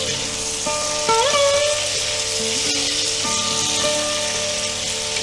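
Ghee sizzles and fries steadily in a pan after salt goes in, a loud, even crackling hiss that runs throughout, with tonal whines and a faint voice in the background.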